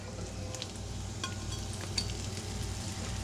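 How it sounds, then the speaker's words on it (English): Green bell peppers and onions, about a quarter cup sliced, sizzle steadily in a hot pan, a continuous close frying hiss with a few small pops and no voices. "Can you hear the sizzle?"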